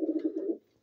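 Paired pigeons kept in a loft at night give a soft, low cooing call, a short rolling run of coos close by that trails off into quiet.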